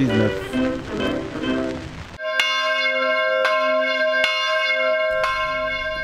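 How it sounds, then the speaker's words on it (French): After a stretch of noisy talk, church bells ring out in full peal with rich sustained tones, struck repeatedly at a slow, even pace. "Les cloches sonnent à toute volée"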